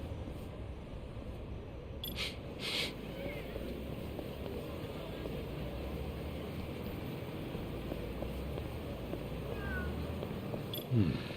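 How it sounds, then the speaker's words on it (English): A cat in the video game Lost Judgment gives a couple of faint meows over a steady, murky ambient game background, fairly quiet and somewhat distant. "Hear a cat."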